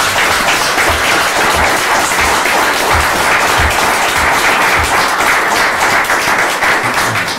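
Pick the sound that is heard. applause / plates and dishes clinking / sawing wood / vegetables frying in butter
applause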